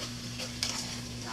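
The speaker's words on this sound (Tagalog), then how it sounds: "Halo natin, halo." Chicken gizzards for pancit are stirred in a frying pan, giving a steady close sizzle with scraping stir strokes and a brief brighter hiss midway; no one talks.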